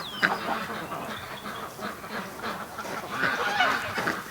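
A duck on a farm where duck and goose eggs are hatched, giving a few scattered, fairly close quacks and honks over quiet background noise.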